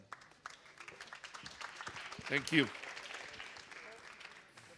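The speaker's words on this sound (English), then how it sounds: "a big applause" An audience claps in a brief round of applause while a person speaks briefly over it.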